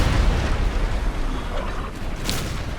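Ship cannons loaded with grape shot boom in a naval battle in the game Imperial Splendour, a heavy rumbling blast fading into low rolling noise, loud and close.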